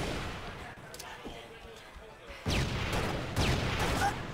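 Sniper rifle shots in the video game Halo: Reach during a competitive match, two sharp booming cracks about a second apart over a quieter bed of game noise and scattered fire.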